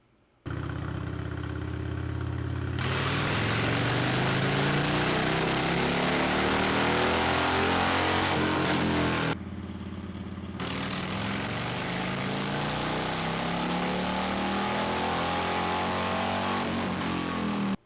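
Motorcycle engine on a dyno, loud and close, revving hard in two long sustained pulls that climb to around 6,300 rpm at the rev limiter, with a brief drop to idle between runs.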